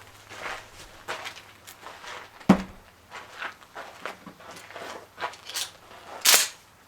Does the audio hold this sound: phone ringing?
no